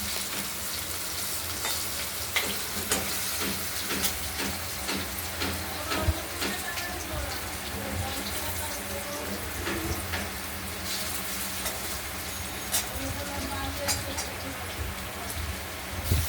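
Tomatoes are fried together with potatoes in a pan, giving a dense, even sizzle that crackles and pops throughout and sits close and continuous, with no talking.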